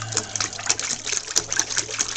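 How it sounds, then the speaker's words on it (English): Pet dove splashing in bath water: rapid irregular bursts of splashing and dripping, close and fairly loud, with quick flicks of water between softer trickles. "That's what birdies do, right, Tweety? Just splash in the water"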